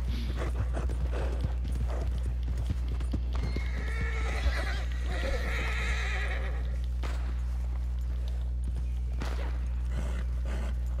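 A frightened horse in the video game Red Dead Redemption 2 whinnies loudly in the middle of the clip, with steady clip-clop hoofbeats and footsteps running underneath throughout.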